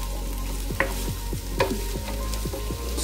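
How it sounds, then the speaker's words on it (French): Minced meat sizzles in a frying pan for stuffed cabbage while a spoon scrapes and stirs it in a steady rhythm of about ten strokes, close and loud, with no talking. "Et je mélange bien."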